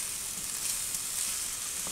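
Chicken pieces fry in a hot pan for a fruity chicken sauce, a steady close hiss and crackle of sizzling oil with no talk.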